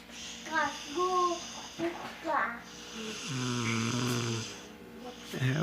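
A young man snoring in his sleep, with the sound loud and close. Drawn-out rasping breaths come in a slow, uneven rhythm and are broken by snorts. A voice can be heard partway through.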